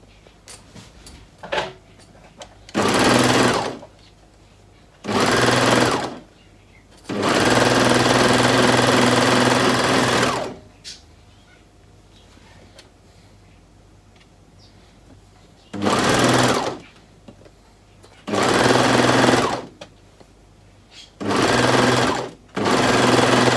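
A sewing machine stitches the seams of a cozy cardigan, joining the shoulders, in several loud bursts of steady running, some a second long and one about four seconds, with quiet gaps between them.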